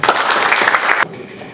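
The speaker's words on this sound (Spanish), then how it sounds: "Un fuerte aplauso, por favor." Audience clapping at a public accountability event for an assembly member in Morona Santiago, Ecuador, a loud dense burst of applause that stops abruptly about a second in.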